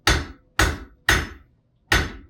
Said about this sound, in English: letting the hammer do the work as it falls down to the metal